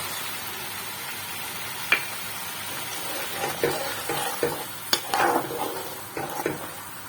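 Water poured into a sizzling pan of fried spiced masala for doi rui, a rohu fish curry with yogurt, sets off a steady hiss punctuated by several sharp clinks and scraping stirs of a utensil against the pan.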